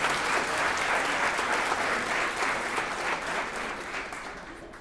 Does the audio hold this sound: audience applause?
yes